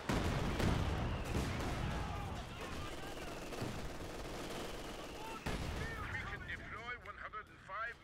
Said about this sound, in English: We have Stuka, Katyusha fire coming in now.